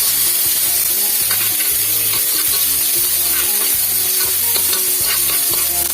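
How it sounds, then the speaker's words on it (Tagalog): Chopped onion and tomato sizzle in a hot pan while a utensil repeatedly scrapes and stirs them, producing rhythmic scraping strokes over a constant loud frying hiss, close up with no talking. "saute it for about 2 to 3 minutes"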